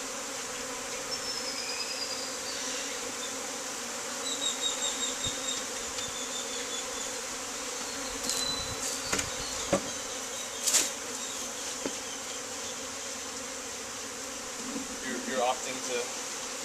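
Honeybees from an open backyard hive buzz steadily during a swarm inspection, a continuous high drone with individual bees passing close at times and brief faint handling sounds.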